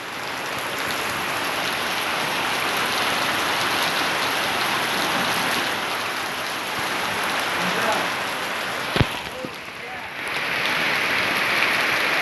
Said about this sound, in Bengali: খুবই সুন্দর বৃষ্টি হইতেছে